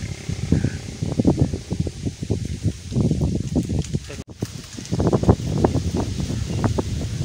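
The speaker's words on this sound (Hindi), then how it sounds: "हवा चल रही है, ये देखे पत्ते कितने तेज़ से" Strong wind blows through tree leaves in a village outdoors, making a steady, gusting rustle that rises and falls throughout, while voices talk close to the microphone.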